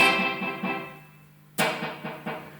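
Echolette NG 51 tube tape echo with all playback heads engaged, a sustained tone trailing off into a run of loud repeating echoes that swell back in rhythmically, close and alone.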